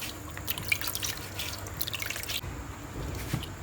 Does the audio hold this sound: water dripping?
yes